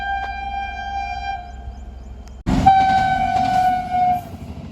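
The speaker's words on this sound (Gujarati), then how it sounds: "ટ્રેન આવી ગઈ છે" A train pulls in with a loud, sustained horn blast over a heavy rolling rumble of wheels and cars, close by and steady, with a fainter tone before the main blast.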